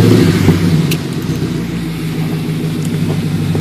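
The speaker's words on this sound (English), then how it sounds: "as soon as I start the vehicle" A vehicle engine starts by remote start and settles into a loud, close idle rumble, with a brief rise in revs at the start before it steadies to a low, even drone.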